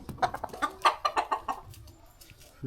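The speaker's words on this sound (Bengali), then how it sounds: "এই মুরগি এই" A hen clucks in a quick series of close, soft calls, several short clucks in a row before tapering off; the chicken is a poultry bird raised as a village hen.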